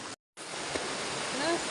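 Drinking spring water gushing from the base of a rock face in a mountain village in Uttarakhand, a steady close rushing splash that runs continuously after a brief cut, with no voices.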